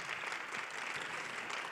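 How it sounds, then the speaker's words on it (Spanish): An audience at a book presentation claps steadily, a dense, even patter of applause heard at a moderate distance with no voices over it. "Isabel, te damos un aplauso."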